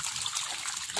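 Milkfish tip into icy water at a fish farm in Zambales with a brief, steady splashing gush of poured water, close and continuous.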